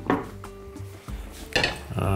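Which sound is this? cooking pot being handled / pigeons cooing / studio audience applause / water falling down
cooking pot being handled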